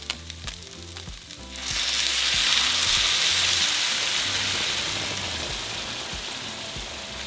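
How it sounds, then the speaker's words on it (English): Green chile sauce hits hot oil in a pan and erupts into a loud, dense sizzle after a few seconds of low clattering and stirring, then settles into steady frying that slowly softens. "add a little bit of oil, just like that. And we're going to fry it for about 5 minutes"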